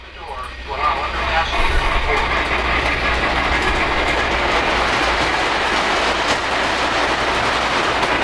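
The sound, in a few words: Polar Express model freight train running up grade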